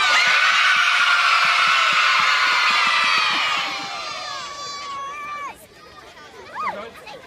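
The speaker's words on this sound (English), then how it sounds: "After 3, big cheer." A crowd of children and adults at a Saint George's Day event in Dartford, Kent, lets out a loud, sustained cheer that holds for several seconds, then fades into scattered shouts and chatter.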